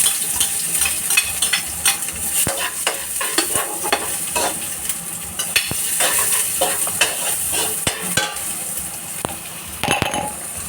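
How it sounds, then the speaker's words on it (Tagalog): Garlic and onion fry in a little oil, a steady close sizzle broken by frequent scraping stirs and light clinks of a spatula against the pan. "So, magpe-prito tayo ng bawang tsaka sibuyas."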